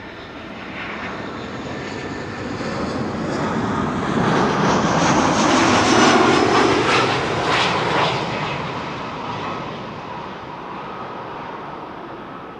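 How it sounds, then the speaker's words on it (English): KLM Boeing 777-200 arriving at Amsterdam Schiphol from New York JFK, its jet roar rising to a loud peak overhead and then slowly fading, steady and without voices. "KLM flight 644, 777, 200 arrival from New York"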